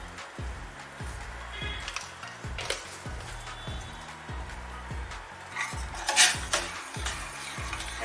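A tender coconut pudding mixture is stirred with a utensil in a pot, giving soft, repeated scraping and light clinks at a close, quiet level over a faint rhythmic hum.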